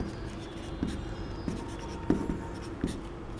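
Chalk or marker writing on a board during a Class 12 physics lesson on electric current, a few soft scratching strokes with sharper taps at intervals over quiet room noise.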